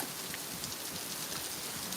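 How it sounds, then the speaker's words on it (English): Small hailstones larger than peas fall during a severe thunderstorm, making a dense, constant hiss of many tiny impacts that continues unbroken with no voices. "we're seeing some hail here"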